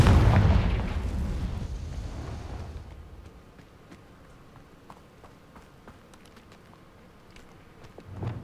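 A Confringo fire spell explodes in the Hogwarts Legacy video game, a loud booming blast that rumbles and fades over about three seconds, followed by quieter scattered game effects and a swell of sound near the end.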